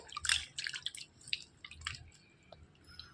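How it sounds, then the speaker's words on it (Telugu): Bitter gourds are washed by hand in water, giving soft drips, splashes and squishy handling sounds in short bursts, close and fairly quiet, with no talking. "ఈ కాకరకాయని కొంచెం శుభ్రం చేసేసుకోవాలండి కడిగేసుకోవాలి నీట్గా కడిగేసుకొని"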